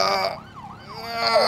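An emergency siren in the video game GTA V wails nearby, its pitch sweeping up and down in a short, clear wavering cycle.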